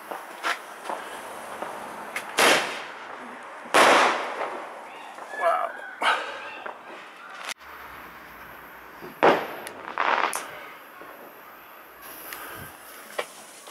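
A Bad Boy Colour Bomb firework goes off outdoors, with several loud cracking bursts and pops at uneven intervals, each followed by fizzing and crackle, over steady background noise.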